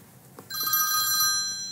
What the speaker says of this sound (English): Oh, that's a fucking phone.